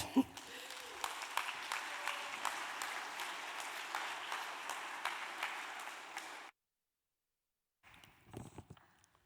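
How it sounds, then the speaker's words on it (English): An audience at a convention bureau afternoon event gives a round of applause, a steady, moderately loud clatter of many hands lasting about six seconds before cutting off abruptly, with faint sounds returning near the end. "a big round of applause for Aneta Książek"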